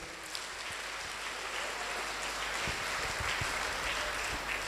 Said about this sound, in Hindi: इनके लिए जोरदार ताली आप लोग बजाएं